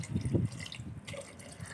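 Water poured from above into a clay cooking pot for namkeen gosht over a wood fire, a brief close splash and trickle that fades into faint drips.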